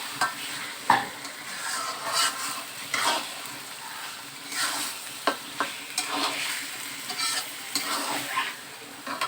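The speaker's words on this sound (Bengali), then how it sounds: "এবারে সব কিছু একসাথে মিশিয়ে কষাতে থাকবো।" Mutton or chicken with spices and turmeric sizzles in a pan while a spoon stirs and scrapes, giving irregular clinks and scuffs over a steady fry, close up and without speech.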